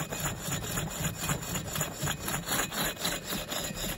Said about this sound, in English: stone is the hardest thing you could possibly drill